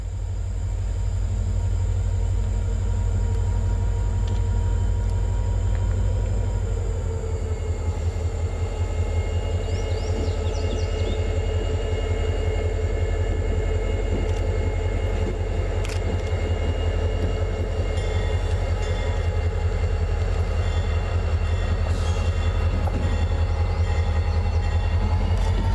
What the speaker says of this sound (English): we got 95W taking their SD40-2 back to Wilco to tie up for the day